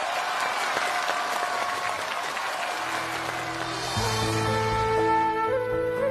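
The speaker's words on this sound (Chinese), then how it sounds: "掌声有请两位" An audience on a ceramics stage event applauds to welcome two guests, dense steady clapping that fades as stage music swells in.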